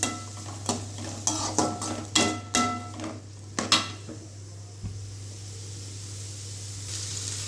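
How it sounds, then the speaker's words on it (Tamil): Onions and curry leaves sauté in a pan for chicken gravy: a spoon scrapes and clanks against the metal in a quick series of stirs over a steady low sizzle, then the stirring stops and only the faint frying hiss continues. "வெங்காயம் வந்து கொஞ்சம் நல்லா வதங்கட்டும்."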